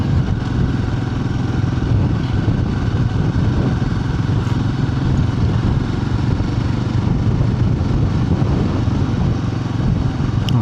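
A motorcycle being ridden, recorded with a DJI Action 6 camera, its engine a loud steady rumble with wind buffeting running unbroken throughout.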